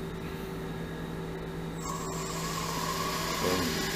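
A lathe spins at 2000 RPM, cutting resin cast around an ammo casing to shape a shifter knob, giving a steady whine with a slightly louder, brighter cutting tone that picks up partway through.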